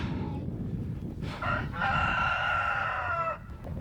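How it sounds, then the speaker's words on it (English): Hens cluck and call close by, a rooster-like crow rising in the middle over a low background rumble. "So all these hens are coming out."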